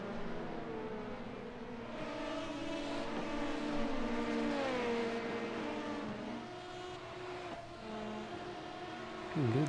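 Several LMP2 prototype race cars in a racing video game drive side by side out of the last corner, a steady loud engine drone with shifting pitch sweeps and occasional gear changes throughout.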